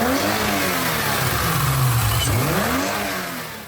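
A BMW E30 with a 2.9 litre stroker build of a 325i six-cylinder engine revs loudly up close, the pitch sweeping up and down through a sustained throaty roar before easing off at the end, with no talking.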